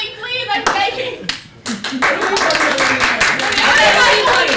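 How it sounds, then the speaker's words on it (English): An audience at a neo-futurist theater show breaks into clapping that swells and stays dense after a brief lull. Voices talk over the applause. "Everybody applause"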